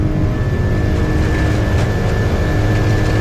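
An airplane's engines roar loudly and steadily during takeoff, heard from inside the aircraft as a dense continuous drone with a faint whining tone running through it and no voices.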